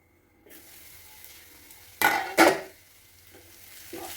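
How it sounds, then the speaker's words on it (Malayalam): A home cook stirs and mixes a dish after adding salt and a little sugar during morning kitchen work, with two short, sharp scraping bursts near the middle over quiet kitchen background and no talking. "ഉപ്പ്, ലേശം പഞ്ചസാര ഇട്ട് കൊടുക്കുക. ഒന്ന് നല്ലപോലെ ഒന്ന് മിക്സാക്കി എടുക്കുക."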